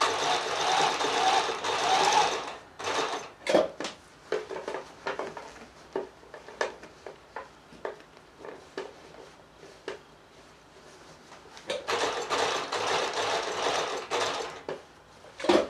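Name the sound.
sewing machine stitching a jeans zip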